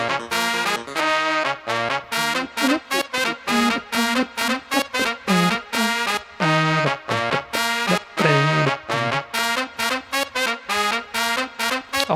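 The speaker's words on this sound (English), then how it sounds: "I think it's a combination of trumpets and saxophone." Sampled trumpets and a tenor saxophone play a melody together in octaves, the sax an octave below the lead trumpet, with loud, continuous, sustained brass lines broken by short rhythmic stabs.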